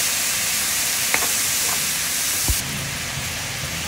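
Meat and string beans for adobong sitaw sizzle in a pan, a steady broadband hiss with a few soft clinks of stirring, close and continuous with no talk.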